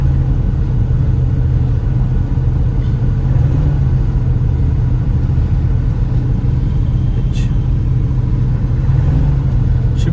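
Steady, loud idle of a 1966 Ford Thunderbird engine with a fresh battery and a low-reading amp meter, a continuous low rumble holding even for the whole stretch with no talk.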